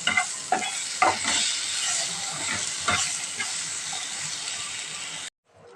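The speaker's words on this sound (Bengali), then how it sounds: "গোটা গরম মশলা আর পেঁয়াজ টমেটো কাঁচা লঙ্কা আদা রসুন সব দিয়ে দিলাম এগুলোকে হালকা একটু ভাজা ভাজা করে নিয়ে" Whole spices, onion, tomato, green chilli, ginger and garlic sizzle in a hot pan. A loud, dense frying hiss is broken by several clattering stirs near the start, then it cuts off abruptly near the end.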